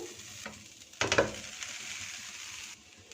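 Potatoes and vegetables are stirred into a hot, sizzling pan, a short burst of scraping and frying crackle at about the one-second mark over a faint ongoing sizzle.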